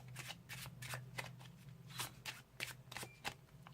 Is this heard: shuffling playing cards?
yes